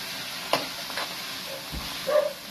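Liver frying in a pan for a Filipino chopsuey, a low steady sizzle with a few light clinks and stirring sounds, faint and close, with no talk.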